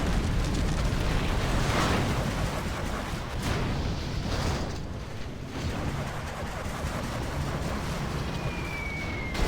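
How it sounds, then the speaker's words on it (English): A big, roaring explosion from an Anthrax bomb in a strategy video game fills the clip, a dense, sustained rumble that stays loud throughout before easing slightly toward the end. "There's the Anthrax bomb, and that's it."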